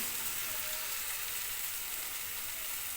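Katla fish pieces frying in a pan for curry, a dense, even crackling sizzle held steadily throughout, close up with no voices.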